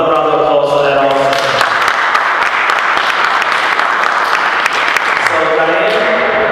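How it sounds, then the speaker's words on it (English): Loud, sustained applause from a crowd at a city council meeting in Elizabeth, New Jersey, dense clapping running steadily throughout, with a voice speaking at the start and end. "They get around another round of applause for that also"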